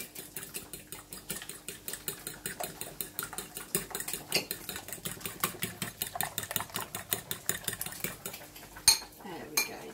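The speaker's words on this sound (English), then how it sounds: "using my fork, just going to whisk those together" A fork clinks rapidly and rhythmically against a bowl whisking egg yolks, fast steady whisking that continues throughout, with a low hum in the background.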